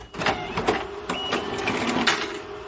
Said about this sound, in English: starts the printing process